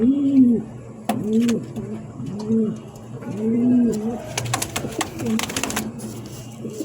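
Lahori pigeons, a blue male and a black female, coo in repeated soft rolling phrases close by, with a few sharp clicks and rustles in the second half.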